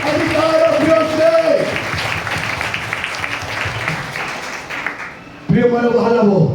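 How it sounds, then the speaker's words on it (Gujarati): A congregation at a Sunday prayer meeting in Naranpur, Uchchhal, claps together in a dense burst of applause lasting several seconds, with a voice speaking or singing before and after it. "તાળીઓ પાડીને ઈશ્વરને મહિમા આપીએ."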